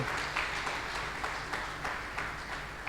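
A church congregation applauds steadily during a sermon, a dense wash of clapping that continues throughout at a moderate level.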